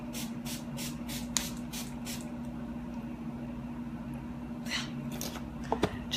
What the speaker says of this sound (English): just gonna put some setting spray